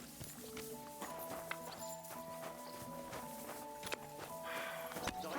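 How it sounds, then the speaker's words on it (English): Horse hooves clip-clop at a steady walking pace in the medieval video game Kingdom Come: Deliverance 2, with a low musical drone running underneath. "What a beautiful horse."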